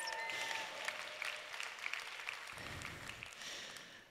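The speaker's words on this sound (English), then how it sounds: "Give them another round of applause, please." A comedy audience applauds after a stand-up act, a sustained quiet patter of many hands clapping heard from a distance, with faint crowd noise underneath.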